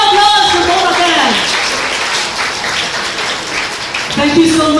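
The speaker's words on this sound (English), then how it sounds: "another round of applause for both of them" Applause from a wedding crowd during the cake cutting fills the whole stretch, with a voice speaking over the clapping at the start and again near the end.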